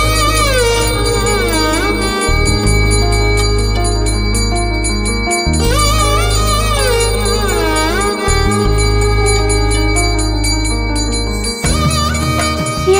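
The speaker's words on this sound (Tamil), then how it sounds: "மணி சத்தம் கேக்குதுடா" Temple bell ringing in a Tamil TV serial scene, sustained metallic tones repeating in a steady rhythm over a constant low drone, loud and close with no speech.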